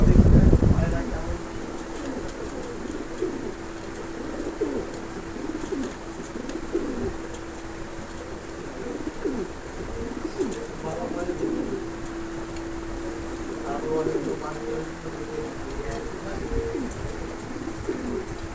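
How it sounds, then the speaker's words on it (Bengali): Pigeons, a pair of Lahori birds, coo repeatedly up close in soft, low, rhythmic calls, some overlapping, with a steady hum in the background and little else. "পায়রার ডাকটা দেখুন, পায়রা কেমন"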